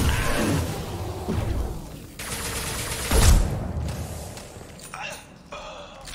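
Gunfire in the Mass Effect 2 video game, with bursts of rapid shots, whooshes and a heavy impact around the middle amid game effects, loud and close.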